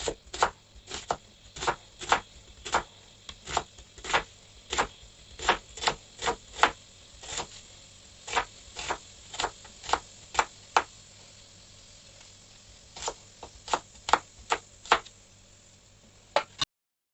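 Knife chopping vegetables into thin julienne strips on a cutting board, a fast, steady run of crisp, close taps in several bursts with brief pauses, no talking.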